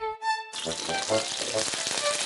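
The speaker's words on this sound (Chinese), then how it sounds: "酿口朝下，中火慢煎，让青椒的虎皮纹慢慢浮现" Green peppers stuffed with shrimp paste fry cut side down in a pan over medium heat, giving a steady close sizzle with crackling pops after a brief musical tone at the start.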